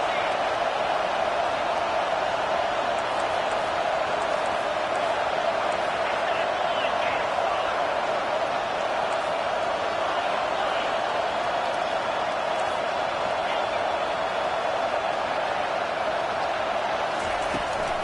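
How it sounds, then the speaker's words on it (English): Stadium crowd roar in the NCAA 25 college football video game, building behind the defense on a third down; a dense, steady wash of cheering that holds loud throughout, with no clear talk in the mix. "Decibels rising as the crowd gets behind this defense on third down."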